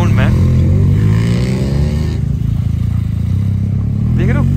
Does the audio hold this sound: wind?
no